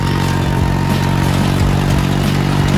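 A Kawasaki motorcycle engine drones loudly and steadily as the bike rides through corners, close up and without talk.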